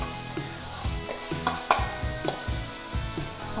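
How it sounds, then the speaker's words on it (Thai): Pork, jackfruit and curry paste stir-fried in a pan, sizzling with repeated scraping strokes of a spatula in an uneven rhythm, close and alone. "เอาหมูลงไปผัดเลยค่ะ"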